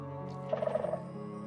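A sculk sensor in Minecraft triggers with a short, faint, warbling rattle of quick pulses lasting about half a second over a low background hum.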